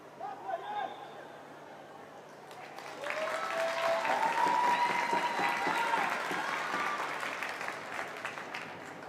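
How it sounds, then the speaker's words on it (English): A stadium crowd at a women's football match, Tottenham Hotspur against Manchester City, breaks into sustained applause that swells and holds for several seconds, with a commentator talking over it. "That applause because Thomas is back onto the pitch."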